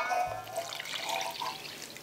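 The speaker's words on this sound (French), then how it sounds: "on va ajouter notre eau avec nos 5 g de sel" Salted water is poured into a bowl before melted butter for a pastry dough, giving a soft close trickle and splash lasting about two seconds, with no talking.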